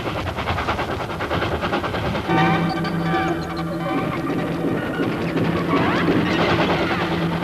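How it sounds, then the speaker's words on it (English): A cartoon train rumbles and clatters steadily, loud and close, with rhythmic rail clacking and a rising whistle-like tone as it draws nearer. "Yeah, it's a train! The train is coming!"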